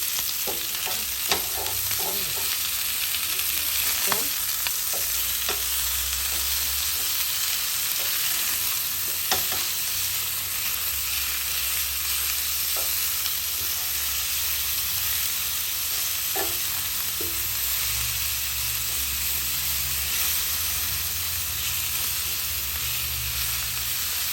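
Lamb chops fry in a pan with garlic, a loud, continuous close sizzle and hiss with occasional sharp pops and a few clicks of handling, no voices.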